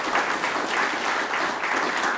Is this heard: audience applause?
yes